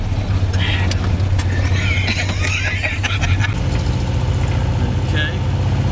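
A Volkswagen Beetle's engine drones loudly and steadily as it drives along an open road, with a low rumble throughout, road and cabin noise over it, and a person talking in the cabin.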